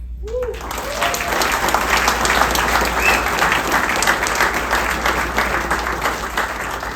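A seated audience at a foundation's annual event bursts into sustained applause to welcome a speaker to the stage, steady dense clapping lasting throughout without a break.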